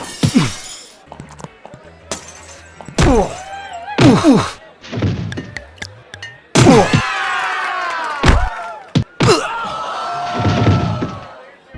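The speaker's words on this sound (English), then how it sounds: "The sound effects are really good overall, especially when objects shatter." Objects shatter and smash in the VR brawler game Drunkn Bar Fight, a run of loud, sharp crashes and thuds with ringing glassy debris, spaced irregularly and heard alone.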